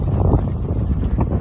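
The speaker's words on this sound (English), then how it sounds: "As you can see, this wind is kind of brutal." Strong gusty wind buffets the microphone on an outdoor trail, a loud rumbling low roar that surges and dips in uneven gusts, with no voices heard.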